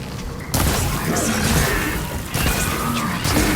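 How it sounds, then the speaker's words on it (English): An explosion rumbles through a mine in the game Horizon Forbidden West: loud, dense crashing and booming bursts that swell, ease briefly and return, filling the space with heavy noise. "An explosion?"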